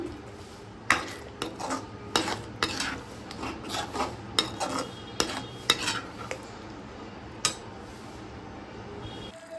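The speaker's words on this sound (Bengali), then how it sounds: "গ্যাসের ফ্লেমটা কমানো অবস্থাতেই আমি এটা 10 মিনিট ধরে সমানে কষাতে থাকব।" Spice masala for dim korma (egg curry) being stirred and sautéed in a pan over a low gas flame, with repeated sharp scraping and clinking strokes of a spoon against the metal pan and a soft sizzle underneath, close and steady.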